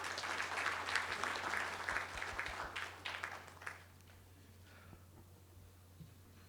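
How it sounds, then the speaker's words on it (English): An audience at an industries and SME summit in Karnataka gives a round of applause, dense and steady for about four seconds before thinning out and fading into a quiet hall. "A big round of applause."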